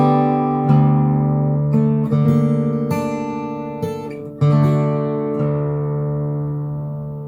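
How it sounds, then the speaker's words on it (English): Guitar in drop D tuning playing the first three measures of Randy Newman's When I'm Gone, a low open D bass under a slow series of plucked chords and melody notes, each left to ring, close and unaccompanied. "As a reminder, those first 3 measures sound like this."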